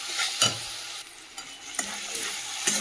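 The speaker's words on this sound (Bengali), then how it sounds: "চলো মশলাটা একটু কষাই আর একটু।" Spice paste seasoned with salt and turmeric fries in oil as a spoon stirs it, giving a steady close sizzle broken by sharp scraping knocks against the pan, with no talking.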